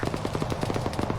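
Rapid automatic gunfire in a military combat game, a fast even rattle of shots loud and close throughout, no voices.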